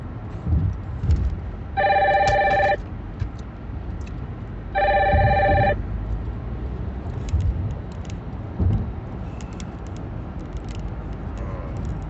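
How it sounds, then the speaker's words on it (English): A mobile phone rings in two loud, clear bursts of a buzzing electronic ringtone, each about a second long and a few seconds apart, over faint background noise. "I'm gonna wait till my phone start ringing so y'all can hear me."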